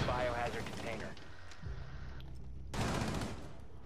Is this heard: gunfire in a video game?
yes